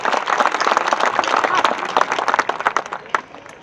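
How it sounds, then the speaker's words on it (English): A crowd at a high school graduation ceremony for the class of 2021 applauds the students, loud dense clapping that thins out into scattered claps toward the end. "So if we can give them a round of applause, because collectively you guys did an amazing job."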